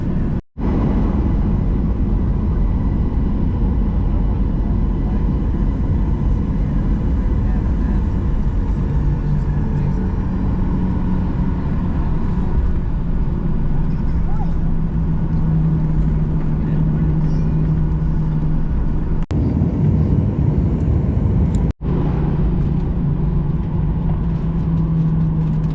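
Steady low rumble of a jet airliner taxiing toward the runway in a queue, heard from inside the cabin, a constant engine drone with faint tonal hums, briefly cut twice.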